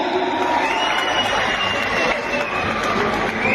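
A large audience at a bodybuilding competition in Sangamner claps and cheers loudly and continuously in welcome, a dense, steady wash of applause and crowd noise with voices mixed in.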